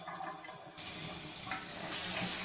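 Tap water runs into a sink while a makeup brush is rinsed, a steady close splashing stream that grows louder and brighter toward the end.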